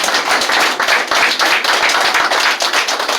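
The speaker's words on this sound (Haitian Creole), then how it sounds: "Un applaudissement pour l'Éternel." A church congregation applauding during a service, dense loud clapping from many hands that is sustained and rhythmic throughout, with no voices over it.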